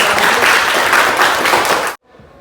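A classroom group gives a short burst of dense, even clapping that stops abruptly, leaving faint room sound.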